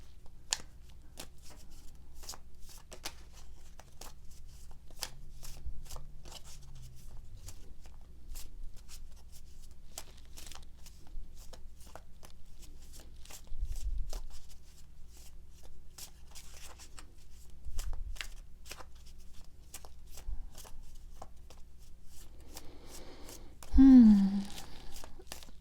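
Soft, scattered riffling and tapping of tarot cards being shuffled, close and quiet, with occasional low murmurs and a brief voice near the end.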